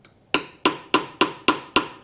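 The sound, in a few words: tapping crankshaft seal in with punch and hammer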